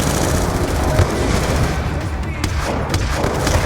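Rapid gunfire from Call of Duty Black Ops 2 crackles in dense bursts under continuous game noise, with a player talking over the shooting.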